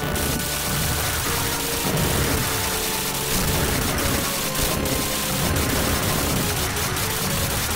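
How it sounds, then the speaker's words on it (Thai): Dense, roaring explosion noise from the arcade shooter Area 88 as a blast wipes the whole screen, loud and continuous throughout with crackling bursts and no talk. "อ๋อมันระเบิดหายทั้งฉากอ่ะ"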